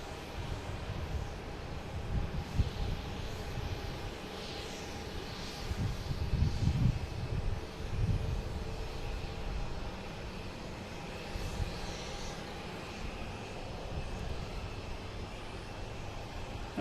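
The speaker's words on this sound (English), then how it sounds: "we have a JetBlue coming in from Orlando. A320, flight 1152." A JetBlue Airbus A320 arriving from Orlando at Boston Logan makes a sustained, rumbling jet roar that swells in the middle and stays steady, moderately distant, with no voices.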